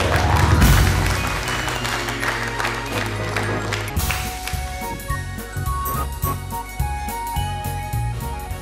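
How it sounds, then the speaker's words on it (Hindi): Steady, full applause from an audience welcoming a poet at a Hindi poetry program, loud and sustained across the whole stretch, with music playing underneath. "जोरदार तालियों के साथ स्वागत"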